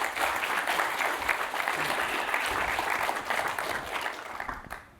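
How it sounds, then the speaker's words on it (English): Sustained applause from a crowd at a panel session, dense and steady for several seconds, then tapering off toward the end. "So round of applause."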